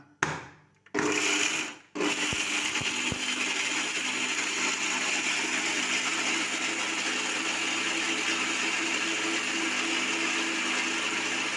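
A kitchen mixer grinder runs with a loud, steady whirring grind after a couple of brief starts and stops, holding continuously to the end.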